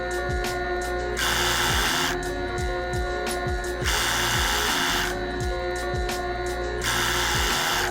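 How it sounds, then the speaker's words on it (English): A sewing machine hemming the bottom of a garment, sped up, whirs continuously with rapid ticking mechanical clicks and repeated brighter bursts of stitching at a steady, close level. "this is just basically me hemming the bottom"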